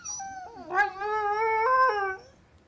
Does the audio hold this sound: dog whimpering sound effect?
yes